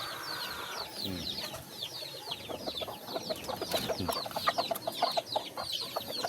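Chickens and chicks being fed coconut pulp cluck and peep continuously at close range, with high chick chirps scattered over lower hen clucks.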